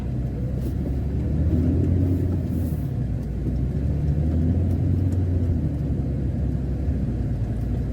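A 4x4 car driving along a narrow village road near Minehead, heard from inside as a steady, loud low rumble of engine and tyres that swells slightly midway, with no talk.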